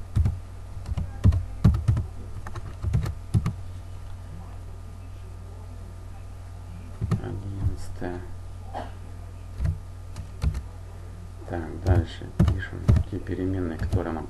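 Computer keyboard typing while a program is written in Pascal, bursts of quick key clicks at close range, with someone speaking intermittently over and between the keystrokes.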